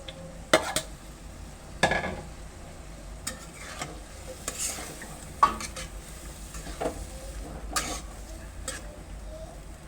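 Potatoes and jackfruit seeds stirred into a sizzling spiced masala, with a steady fry hiss under scattered spoon scrapes and clinks against the pan, several sharper knocks standing out.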